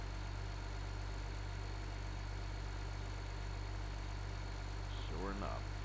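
A tractor engine idles steadily in the video game Farming Simulator 15, giving a low, constant drone throughout with a brief higher-pitched sound near the end.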